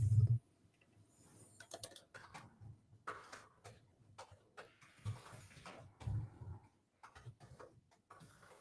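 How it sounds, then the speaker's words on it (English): Scattered keystrokes on a computer keyboard come in short uneven bursts with pauses, close and fairly quiet, alone without talk. "just give me a second while I type that in"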